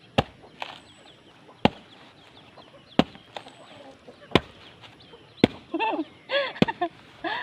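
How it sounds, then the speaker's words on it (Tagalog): Chickens cluck in a rural yard in the Philippines, loudest in a busy run near the end, while sharp, evenly spaced chopping hits ring out throughout. "Nagsilapitan yung mga bingala at bingala at manok."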